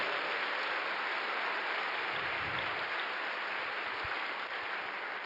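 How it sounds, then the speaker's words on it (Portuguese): A church congregation at a Sunday service applauding in praise, a steady, dense wash of clapping that holds at an even level throughout, with no speech over it. "Dá um aplauso aí ao Senhor Jesus."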